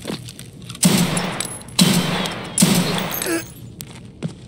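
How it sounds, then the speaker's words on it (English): Three loud, evenly spaced gunshot bursts ring out in the video game Escape From Tarkov during a player-versus-player firefight, each followed by a short tail, with quieter clicks in between. "That's me shooting the scab."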